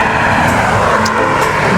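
A car rushes past on a busy road beside a creek bike path, a loud, close, steady roar of engine and tyre noise that fills the whole moment with no voices.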